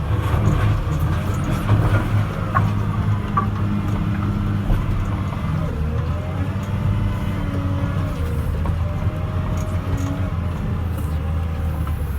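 A heavy machine in second gear pushes dumptruck loads of junk, stumps and mud off a drop-off, its engine a steady, loud low rumble droning continuously with no talking.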